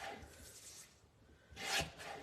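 Paper is trimmed in short rubbing strokes on square photo prints, two soft, close cuts separated by a quiet gap, the second a little louder.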